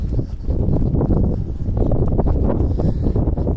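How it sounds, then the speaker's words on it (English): Steady, blustery wind on Argyle Street in Paisley, Scotland buffets the microphone with low rumbling gusts throughout, loud and close, with no voices. "Sorry about the wind, folks. You'll probably hear the wind."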